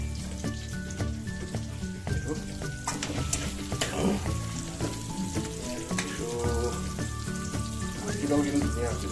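Pork frying with mustard greens in a pan without oil, cooked with raw turmeric and bhut jolokia chilli, gives a steady crackling sizzle that runs under continuous tonal background sound.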